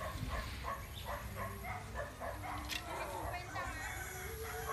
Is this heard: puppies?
yes